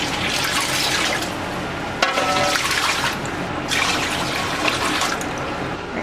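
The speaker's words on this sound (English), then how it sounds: "I'm going to add in 3 quarts of water." Water poured from a quart jar into a Presto pressure canner with a rack on the bottom, making a steady close splashing rush in three bursts with brief pauses between.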